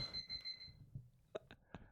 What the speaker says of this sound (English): Oh no, the timer.